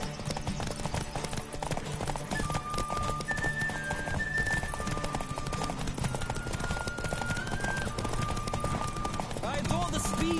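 Hooves of a horse galloping in The Witcher video game, a steady fast clip-clop rhythm running throughout over a busy game soundtrack, with a brief whinny and a voice talking over it.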